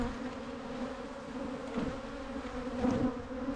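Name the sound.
aggressive honeybee colony buzzing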